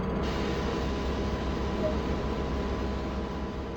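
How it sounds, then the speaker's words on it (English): Steady air compressor running in the cab of a DB BR 155 electric locomotive in Train Sim World, filling the air brake system; a continuous broadband hum and hiss that holds even and fairly loud throughout, with no talk. "The compressor fills the air brake system with air so that the brakes can be released when you're ready."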